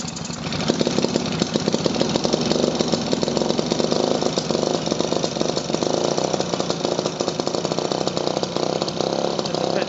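A small petrol engine on a 3.5-inch 2-4-2 model runs steadily and loudly throughout, a continuous buzzing drone with a rapid, rattling firing rhythm close by.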